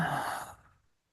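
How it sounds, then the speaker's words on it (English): A deep breath let out in one long, soft, airy exhale during a guided meditation, close and quiet, trailing off into silence. "just take a big deep breath in. Exhale."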